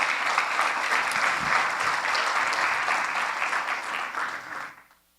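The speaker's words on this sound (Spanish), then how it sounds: "Denle un aplauso al Señor." Sustained applause from a church congregation, dense and steady for about five seconds before fading out quickly at the end.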